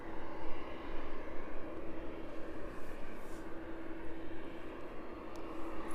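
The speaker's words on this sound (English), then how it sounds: "And the Embraer over Kegworth." An Embraer jet passing low over Kegworth on approach to East Midlands Airport on a cool evening, a steady broad engine roar with a faint hum, distant and continuous throughout without any talk.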